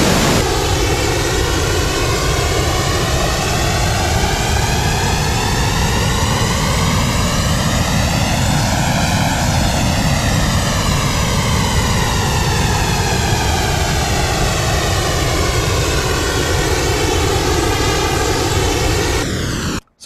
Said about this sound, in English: that movement you're hearing on it is just modulation on the delay return